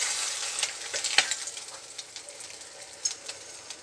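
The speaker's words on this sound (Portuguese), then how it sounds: "E coloco o ovo." An egg fries and gets stirred into beans with onions in a pan, giving a soft steady sizzle with light scraping taps from the stirring, fairly quiet and close, with no talking.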